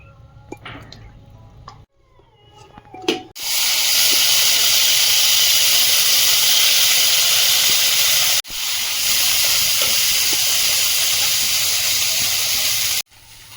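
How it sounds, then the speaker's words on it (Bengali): Dried fish dropped into hot oil, setting off a loud, steady sizzle and hiss that runs unbroken for several seconds, cuts out briefly, resumes, and stops near the end, after a few quiet clinks and drips at the start. "শুকনো মাছগুলো ভেজে নেব"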